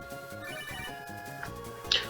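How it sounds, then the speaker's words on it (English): A synthesized ringtone in Pokemon Emerald chimes in a repeating pattern, fairly quiet, with a brighter blip near the end. "Oh, I'm receiving a phone call, and so we have to stop the entire boat."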